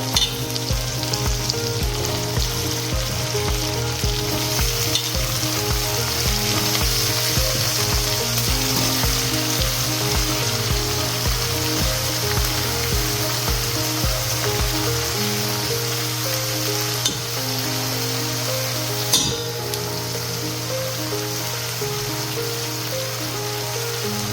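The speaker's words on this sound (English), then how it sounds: "Technically, we're going to be frying them." Loud, continuous sizzling of chicken frying in hot oil in a wok, crackling steadily throughout, with occasional scraping of stirring and a low hum underneath.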